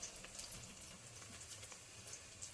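Onions sizzling and frying in hot oil for a Telangana-style desi chicken curry, a steady, fairly faint crackle with soft hiss throughout and no talk.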